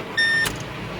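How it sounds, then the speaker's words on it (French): A vehicle's starter whirs briefly with a tonal whine, then an engine catches under a steady broadband rumble, close and loud, when the vehicle is started from the cab for a hydraulic flow test. "il faut mettre en route le véhicule, donc coupe batterie, contact"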